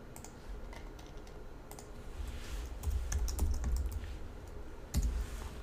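Computer keyboard typing, quick close clicking keystrokes in short bursts over a low background hum, with no talking.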